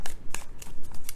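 Tarot cards are shuffled in quick bursts, several crisp riffling snaps close to the mic in an uneven rhythm, with no one talking.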